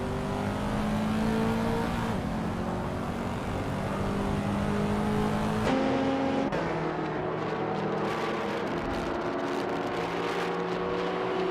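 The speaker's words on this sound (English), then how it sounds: "driving a 1996 Dodge Stealth RT Turbo" Engine of a 1996 Dodge Stealth RT Turbo in a racing video game, a steady loud drone with shifting pitch as it accelerates, running continuously with no talk.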